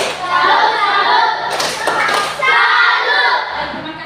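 A classroom of children claps a rhythmic salute for a group, bursts of clapping mixed with chanting voices.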